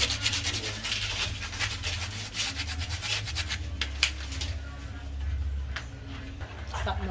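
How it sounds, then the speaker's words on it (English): Sweet potato pudding batter, Jamaican style, is mixed by hand with a continuous wet rubbing and swishing that rises and falls in steady strokes, close and fairly quiet, with a low hum underneath. "Keep mixing."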